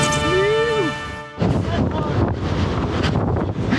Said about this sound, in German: stürmisch, windig, riesengroße Wellen